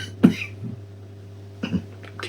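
A few scattered throat-clearing coughs, close by, separated by quiet pauses over a steady low hum.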